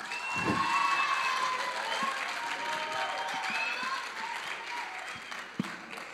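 A live audience claps and cheers in a hall to welcome a second-year economics debate team onto the stage, a dense, steady burst of applause with scattered shouts, sustained throughout.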